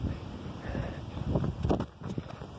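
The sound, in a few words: wind in a video game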